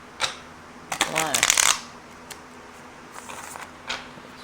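Tarot cards being shuffled by hand produce a brisk riffling flutter in the middle, with a few softer card taps before and after, close up and moderately loud, with no speech over it.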